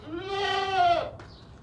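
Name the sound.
goat bleating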